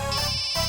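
A mobile phone ringtone plays steadily, a sustained electronic tune with bright layered tones that briefly dips near the end before resuming, fairly loud and close with no talking.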